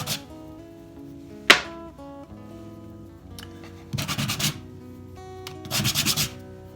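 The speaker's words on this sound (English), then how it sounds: "it's just a matter of giving them a quick rub for when you glue them together again" Short rough rubbing strokes on walnut bowl segments before gluing come in two brief bursts near the end, each with a quick scratchy rhythm, after a sharp tap and against a faint background hum.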